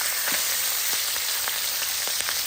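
Tangra fish frying in hot oil in a pan, giving a loud, continuous sizzle up close with small pops and crackles scattered throughout.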